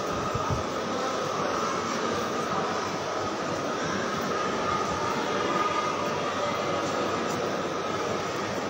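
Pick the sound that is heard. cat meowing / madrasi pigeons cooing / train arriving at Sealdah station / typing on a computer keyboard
train arriving at Sealdah station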